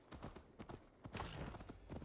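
Horse hooves clip-clop in Assassin's Creed Valhalla, a quick uneven run of thuds as a rider remounts and moves off, fairly close, with soft ambient noise and no talk.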